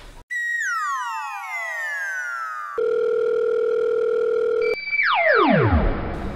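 Electronic telephone tones from a call being placed: a sliding series of pitches, then a steady held tone, then another falling sweep. The tones are loud and close, with no talking.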